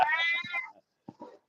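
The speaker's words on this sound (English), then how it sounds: "That's a fat fucking cat." A fat, big-boned cat gives a long, loud meow close by, then after a short pause two brief, quieter chirping mews follow.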